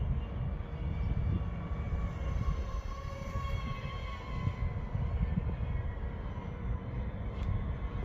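An RC F22 Raptor jet with Spintech 8520 motors flies past, its faint steady whine with sustained tones drifting over wind rumble throughout.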